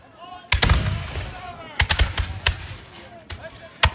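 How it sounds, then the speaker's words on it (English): Musket volleys crack out at a battle reenactment of the Bunker Hill final assault, several sharp reports in irregular clusters with echoing tails, loud and fairly near, while a voice narrates over the firing. "The officers can't keep them from keeping up this ineffective fire from a long range."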